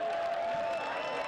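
Stadium crowd at a professional soccer match, a distant wash of applause and murmur, faint and brief, with a steady tone running through it.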